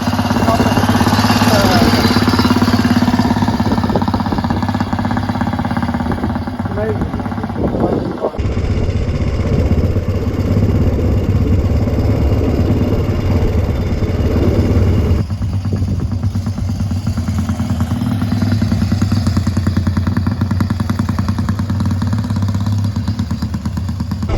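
A pre-war 1930s motorcycle engine runs loud and close for the whole stretch, a steady chugging thrum with clattery mechanical texture and shifts in pitch as it is ridden.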